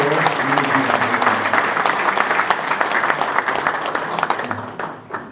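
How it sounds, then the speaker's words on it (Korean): Warm applause from an audience at a church men's association general assembly, a dense, loud clatter of clapping that holds steady for several seconds before tapering off. "뜨거운 박수로"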